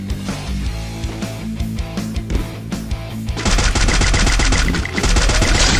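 Gunfire in the mobile battle royale game Free Fire, with game music under rapid bursts of automatic weapon fire that turn into a loud, sustained machine-gun stream in the second half.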